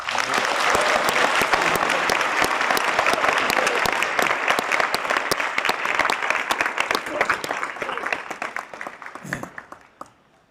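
A school gym audience applauds at a Veterans Day assembly, a loud, dense round of clapping that holds steady before thinning out and fading near the end.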